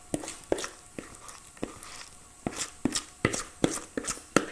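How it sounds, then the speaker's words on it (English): Gluten-free loaf mixture is scooped with a fork into a loaf tin, a string of light, irregular taps and clinks against the tin, close and fairly quiet. "Spoon the mixture into the tin."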